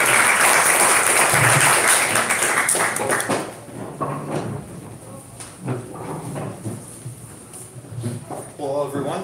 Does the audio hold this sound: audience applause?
yes